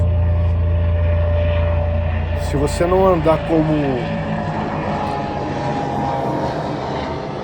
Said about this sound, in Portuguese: Tá passando um helicóptero aqui.